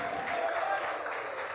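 Fans in attendance cheer and applaud for the Glenbrook South Titans after a CCM World Invite 2024 championship, a dense, steady crowd roar with clapping filling the whole short stretch.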